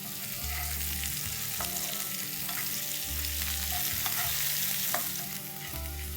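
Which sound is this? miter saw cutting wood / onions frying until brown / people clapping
onions frying until brown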